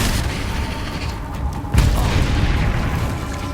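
Expelliarmus disarming spell cast in the Hogwarts Legacy video game, a dense roaring burst with a sharp booming hit midway, no voices.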